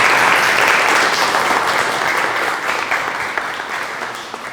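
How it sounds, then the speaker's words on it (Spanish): A lecture audience applauds after a talk on earthquakes, loud sustained clapping from a room full of people that gradually fades over a few seconds. "un aplauso para Yoli"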